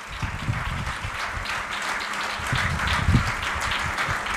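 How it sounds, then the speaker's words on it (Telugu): A church congregation at an anniversary service applauds together in a sustained wash of clapping that swells slightly toward the end, with low voices and room rumble underneath. "వాళ్ళందరి కొరకు ఒకసారి చప్పట్లు కొట్టండి."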